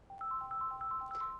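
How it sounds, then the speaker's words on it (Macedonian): A telephone rings on a live call-in radio or TV show, a bright electronic ringtone of repeating warbling tones, close and clear, running steadily with no talk. "Телефонот звони"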